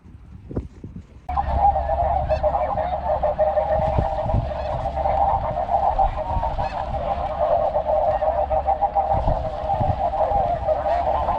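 Snow geese honk continuously from a large flock during a hunt, a dense, steady chorus of overlapping calls that holds loud and unbroken after a quieter opening.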